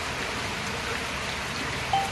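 Heavy rain falls steadily, a dense, even hiss of drops on surfaces that holds at the same loudness throughout with no other sounds.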